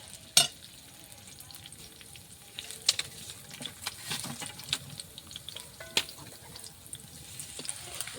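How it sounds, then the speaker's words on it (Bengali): Onion frying in oil gives a soft, continuous sizzle, broken by scattered scrapes and clicks of a spoon stirring it around the pan, close and fairly quiet. "তেল দিয়ে দিলাম কিছুক্ষণ নাড়াচাড়া করবো লাল করে ভেজে নেব"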